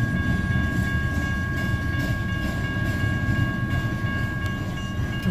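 A train rumbles steadily nearby, a continuous low roar with faint tonal whine above, no voices.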